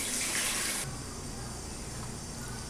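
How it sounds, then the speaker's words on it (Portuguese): Soaking water from eggplant, tinted by the vegetable, poured off into a kitchen sink: a loud, steady rush of splashing water that briefly drops in intensity, then continues as an even pour. "Aí eu vou escorrer"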